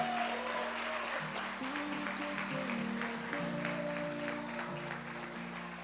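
Church congregation applauding during an evening service, a steady wash of clapping under sustained organ or keyboard chords, continuous and moderately loud.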